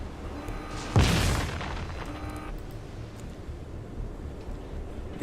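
A naval gun salvo fired in World of Warships: one heavy, close boom with a long rumbling tail lasting over a second, followed by steady ambient game noise.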